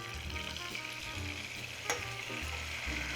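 Butter sizzling and browning around the edges of a pan for roasted Brussels sprouts, a steady close frying hiss with a low hum beneath and one sharp click near the end.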